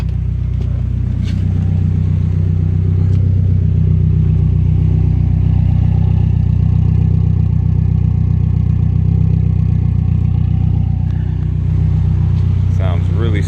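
A turbocharged BMW E30 with an M42 engine and an Emerald K6 standalone ECU idles close by, a steady, smooth, even low thrum that holds throughout, with a voice speaking over it.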